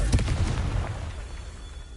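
A Confringo spell explosion in the video game Hogwarts Legacy: a single fiery boom bursts at the start and fades into a rumbling, crackling tail over two seconds.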